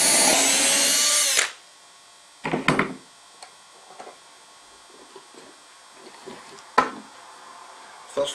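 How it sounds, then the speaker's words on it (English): Power drill boring dowel holes in timber edges using a Dowelmax jig: one loud, steady run for about a second and a half, then sparse workshop knocks and handling clatter at close range. "So that's 2 edges drilled."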